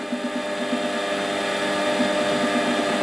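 Brass being machined on a Warco mini lathe, a steady motor hum with a faint rhythmic pulsing whir, continuous and moderately loud with no speech.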